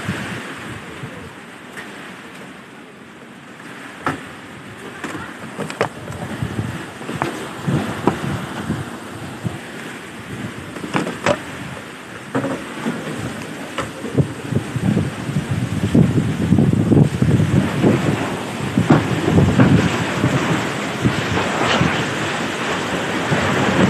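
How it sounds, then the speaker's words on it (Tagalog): Steady typhoon rain and rushing wind fill the scene, with scattered sharp patters and a low thunder rumble building toward the end; no one speaks. "Umuulan."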